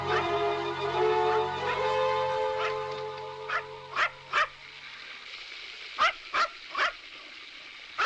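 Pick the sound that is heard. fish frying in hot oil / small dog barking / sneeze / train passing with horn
small dog barking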